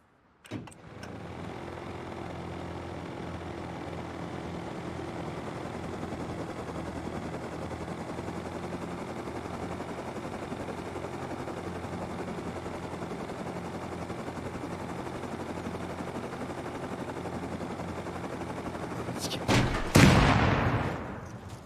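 A video-game helicopter drones on, a steady whirring rotor-and-engine hum that holds level for about twenty seconds before a brief louder burst near the end, then cuts off.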